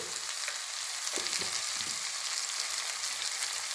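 Brinjal sautés in a pan for a brinjal and black-eyed pea kara kuzhambu, a soft continuous sizzle broken by a few dull spatula knocks near the middle, with no talking.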